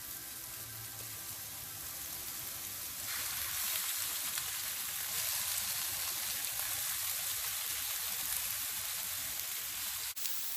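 Fish eggs mixed with spices sizzle steadily in a hot pan, a soft continuous hiss that grows fuller after a few seconds and carries on evenly with no talking.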